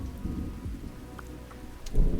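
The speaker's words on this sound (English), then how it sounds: "As much as I love soothing rain noises and everything, I do need to turn those off." Steady soothing rain with low thunder rumbles runs throughout, a few brief drips and pops on top, swelling louder near the end.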